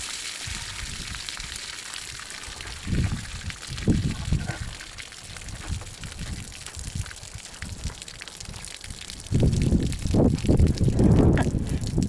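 A bullet strikes water, throwing up several gushing splashes with short quiet gaps between them, the last one longer and louder.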